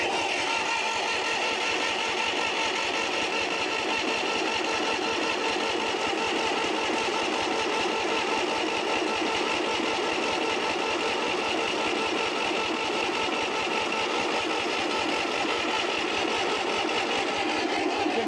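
A 1970s International bulldozer engine cranks on its starter in a long, steady, rapid rhythmic churn, loud and close throughout, with no voices over it.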